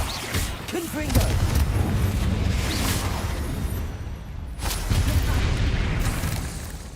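Confringo, the blasting spell in Hogwarts Legacy, goes off as repeated booming explosions with rumbling bursts in a noisy game battle, while a voice calls out over it.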